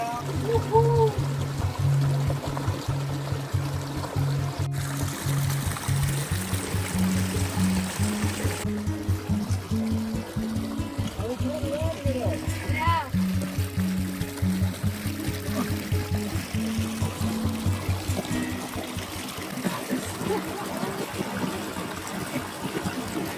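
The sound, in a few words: cold water pouring down in a nature plunge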